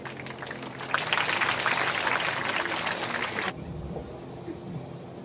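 Brief burst of scattered applause from an audience at an urban forest inauguration function in Venkatagiri, rising after a second, holding about two and a half seconds, then cutting off to quieter room noise.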